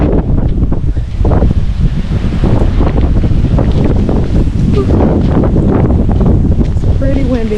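Strong gusting wind ahead of Hurricane Milton roars outdoors, buffeting the microphone loudly and continuously with rushing surges, with a faint distant waterside wash beneath.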